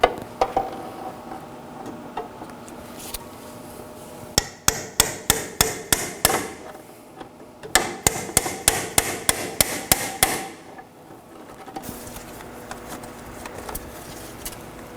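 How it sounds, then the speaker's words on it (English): Two rapid bursts of sharp metallic hammer blows on a pry bar loosening a clamp during inner tie rod replacement on a Nissan Sentra, about a dozen strikes each, separated by a short pause, with workshop background noise between. "I'll be using a pry bar and a hammer to get it loose."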